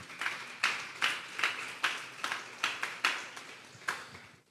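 A church congregation claps during a Sunday service, around ten separate sharp claps with uneven spacing, moderately near and fairly faint, with no voices over them.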